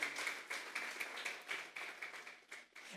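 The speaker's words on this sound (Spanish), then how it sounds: "Vamos a darle una ofrenda de palmas a Dios en esta mañana." A church congregation at a Sunday morning service clapping together in a steady rhythm, many hands at a moderate distance, fairly faint, with no talk over it.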